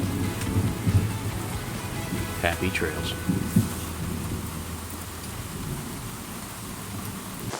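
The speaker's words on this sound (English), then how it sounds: "It's raining." Steady rain falls on the Florida Trail in the Green Swamp, pattering over a wide hiss, with a brief spoken remark and scattered nearby knocks and rustles.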